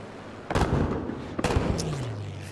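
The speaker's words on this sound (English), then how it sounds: "The AA is shooting me from all over the other side of the map." Anti-aircraft gunfire in Battlefield V on the Arras map, two loud sharp bursts about a second apart, each followed by a rumbling tail, with a faint high whine sliding downward near the end.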